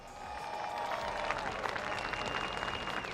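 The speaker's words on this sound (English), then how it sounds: "Round of applause." Crowd applause and cheering at a Formula Drift pro competition in New Jersey, steady dense clapping with whistles and shouts from a large outdoor audience, a car engine whine drifting underneath.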